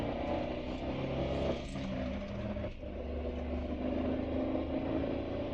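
A 1998 Chevrolet Tracker accelerating at a leisurely pace in third gear on a highway, a steady droning engine hum blended with road and wind noise heard from inside the cabin, no talking.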